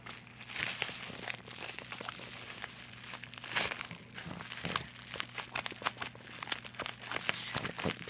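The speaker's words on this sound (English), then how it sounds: "Trying to cut the tape." Packing tape is cut and bubble wrap is crinkled off a diecast model car package, giving close, steady rustling and crackling with scattered sharp snaps over a low background hum.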